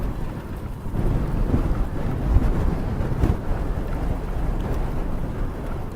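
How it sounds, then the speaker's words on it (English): Gusty wind buffets the microphone steadily for the whole stretch, a loud, continuous rumbling roar with surges, outdoors on a blustery day after rain while out cycling. "Really didn't expect it to be this gusty this soon."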